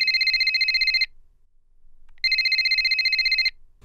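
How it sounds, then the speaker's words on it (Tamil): A mobile phone ringtone plays as an audiobook sound effect: two loud, steady electronic ringing bursts of about a second each, separated by a brief quiet gap, with no voices. "மொபைல் போன் மாறி மாறி அழைத்துக்கொண்டே இருந்தது."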